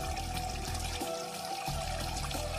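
Clear hill spring water at a hilltop in West Bengal pours steadily, a continuous rushing, splashing flow that stays close and fills the whole stretch without talk.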